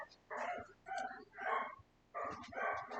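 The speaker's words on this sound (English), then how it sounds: "Sorry if you can hear the dogs barking in the background" Several dogs bark in short repeated bursts at a distance, with quiet gaps between the volleys.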